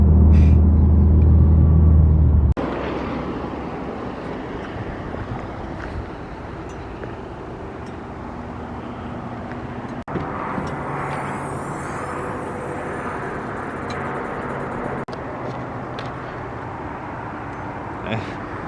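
A Subaru STI with a brand new engine drives along, a steady low rumble of engine and road noise with wind buffeting the cabin, louder at the start then settling into a constant hum while someone talks over it.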